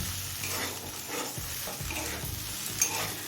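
Fried lentil dumplings are stirred into a pan of drumstick flowers with potato and eggplant, making a constant close sizzle with soft scraping stirs throughout and no talking.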